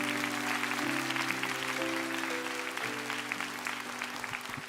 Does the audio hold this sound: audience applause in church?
yes